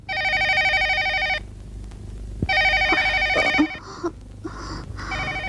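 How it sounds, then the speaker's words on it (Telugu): A telephone rings loudly in repeated electronic bursts, with a pause between rings and some clatter and voices briefly overlapping the later rings. "ఫోన్ రింగ్ అవుతుంది"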